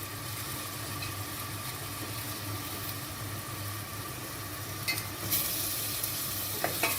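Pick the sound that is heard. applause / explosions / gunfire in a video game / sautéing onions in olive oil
sautéing onions in olive oil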